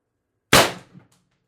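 A single shot from a Pistelle X-68 CO2 air pistol fired with an MCS Reaper suppressor, using a 12 g CO2 cartridge and a 10 gram pellet. It is a sharp, close crack that fades quickly, followed by a faint metallic tail.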